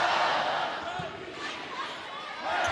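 A crowd of over 6,000 fills the Rec Hall volleyball arena at Penn State, a steady broad roar of cheering and noise that swells at the start and end, with no clear individual voices standing out.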